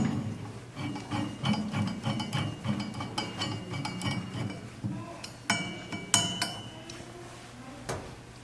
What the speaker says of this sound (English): And then I drop my other bolt down here.